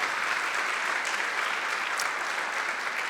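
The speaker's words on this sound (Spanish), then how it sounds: "un aplauso a Dios" Steady, full audience applause at a church event, dense clapping throughout with no voices standing out.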